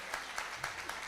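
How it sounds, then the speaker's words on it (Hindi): Faint, distant applause from an audience at a Vedic astrology conference, with a few soft claps standing out over a steady low murmur of crowd noise. "आपको सबको बड़े ज़ोर से तालियां बजाना चाहिए।"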